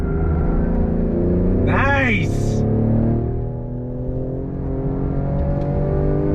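A 2022 Ford Explorer ST SUV accelerates on full throttle from a standstill, its engine droning steadily and strongly inside the cabin, with one short spoken word partway through.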